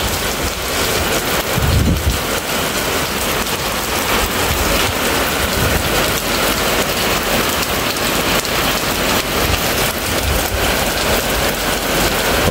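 Heavy early-season rain pours steadily onto surfaces in Phung Hiep, Hau Giang, making a loud, dense, unbroken hiss, with a brief low thump near the start and no talking.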